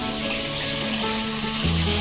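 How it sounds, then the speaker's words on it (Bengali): Eight pieces frying in soybean oil in a pan give off a steady, dense hiss and crackle that runs without a break from start to finish and stays fairly loud. "তেল দিয়ে সয়াবিন তেলে ভাজি করতেছি"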